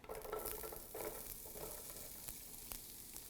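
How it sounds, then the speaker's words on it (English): A small onion sizzles and crackles in hot olive oil, a steady frying hiss with occasional stirring scrapes, close up and fairly quiet. "I love hearing that sizzle."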